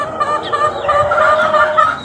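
A small chick and its mother hen on a farm, the chick set out in the sun after a cold, clucking and peeping softly in a steady run of short chirps, fairly close and heard alone.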